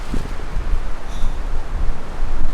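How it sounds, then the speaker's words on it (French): Wind gusting through trees outdoors, a loud continuous rushing roar with buffeting against the microphone and no talking. "De toute façon ça doit s'entendre à la caméra le vent je pense."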